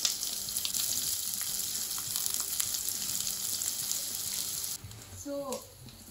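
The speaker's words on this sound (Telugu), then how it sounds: "So I'm going to fry this till it becomes transparent." Chopped onions fry in about two tablespoons of oil in a pan, giving a steady, moderately loud hiss and sizzle. The sizzle drops off near the end as brief clinks and a faint voice come in.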